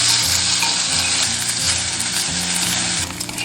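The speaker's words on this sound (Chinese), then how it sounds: "直接下入五花肉煸油" Pork belly frying in a dry pan to render its fat, a loud close crackling sizzle that runs continuously, with low scraping thuds of stirring underneath and no voices.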